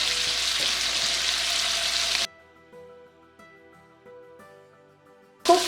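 Shawarma meat frying over low to medium flame in a pan, a loud steady sizzle for about two seconds, then a cut to near silence with faint tonal hum before the sizzle bursts back at the end.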